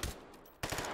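Gunshots in the VR game Hot Dogs, Horseshoes & Hand Grenades: two sharp, close reports about half a second apart, with no voices.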